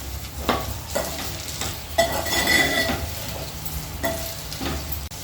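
Okra pieces frying in a pan while being stirred, with a steady low sizzle broken by scraping spoon strokes and light clinks of utensil against the pan, heard up close with no talking.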